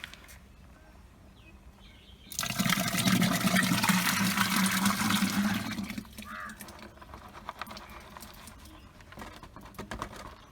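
Liquid pours into a drum with a sudden loud gushing splash that runs for several seconds, then tapers to scattered drips and small clatters against a quiet background.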